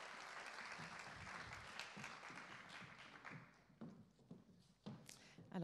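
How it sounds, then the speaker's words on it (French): Faint audience applause welcomes panel guests at a fashion-industry talk, a patter of clapping that thins and breaks into scattered claps near the end. "sous vos applaudissements s'il vous plaît"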